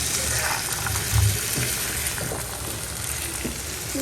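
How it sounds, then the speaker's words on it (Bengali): Green peas fry in a pan with cauliflower and potato, giving a steady, close hiss and sizzle with a few soft bumps and no talking. "আমি মটরশুঁটিগুলো দিয়ে দেবো এখানে ভাজবো একটু"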